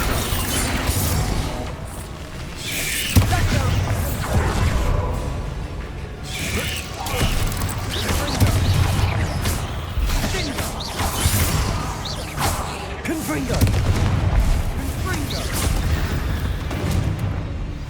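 Explosive spell impacts, booms and crashes in the Hogwarts Legacy video game ring out repeatedly in dense bursts, with mechanical creaks and rattles between the blasts and occasional spoken incantations mixed in.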